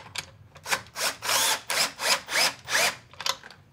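A saddle clamp on a water filtration membrane housing being tightened with wrenches and a driver, a series of about seven close, even rasping ratchet-like strokes in steady rhythm, with no talking.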